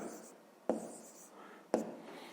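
Numbers written by hand on paper during a fifth-grade maths exercise: soft scratchy pen strokes with two sharper taps, close and quiet, with faint speech-like murmur.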